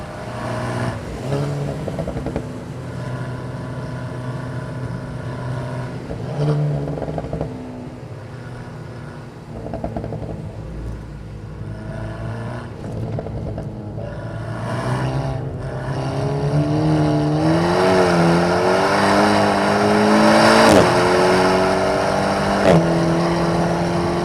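A car on semi-slick tyres is driven hard around the wet Nürburgring, its engine loud and close, revving up and down through gear changes and climbing strongly toward the end, with no talking.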